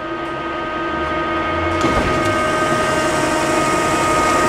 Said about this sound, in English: you got power traverse of the uh, chuck slide. Goes under.